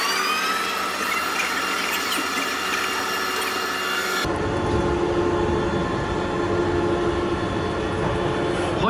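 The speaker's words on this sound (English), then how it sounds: "There's a shuttle train." A Paris airport shuttle train runs steadily with a continuous mechanical rumble and whine that shifts character partway through, with no voices.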